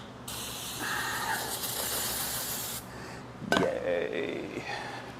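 Brake cleaner sprays from an aerosol can during assembly of a Texas Speed 408 engine for a 2001 Pontiac Trans Am, a close, loud hiss lasting about two and a half seconds, followed by a handling clunk and a second shorter spray burst.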